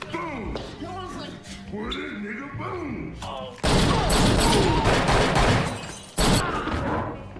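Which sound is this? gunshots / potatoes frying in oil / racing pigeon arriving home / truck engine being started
gunshots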